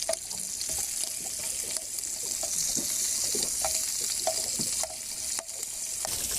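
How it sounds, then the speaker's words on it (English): A mackerel fillet frying skin side down in a pan outdoors, giving a steady close sizzle with scattered crackles and pops throughout. "Pop the mackerel fillet in there, skin side down."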